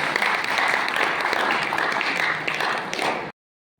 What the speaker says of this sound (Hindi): आप ताली बजा के स्वागत किया करें।